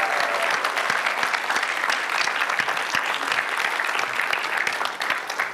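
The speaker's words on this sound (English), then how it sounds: "This is where you practice the clapping" A church congregation claps together during a summer celebration service, a thick sustained burst of many hands with individual sharper claps standing out, fairly close and steady throughout.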